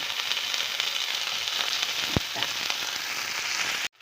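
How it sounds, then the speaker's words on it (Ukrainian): Eggplant and zucchini fry in hot oil in a pan, giving a steady, close sizzle that runs unbroken before stopping abruptly near the end. "Закладаю те, що залишилося з баклажанів, також я поміщаю і кабачки, також, щоб вони підсмажилися."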